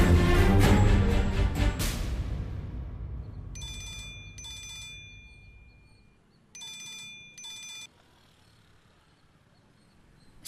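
An incoming call sets a telephone ringing in two pairs of short electronic trills, fairly faint, following a loud dramatic music sting from a Tamil TV serial.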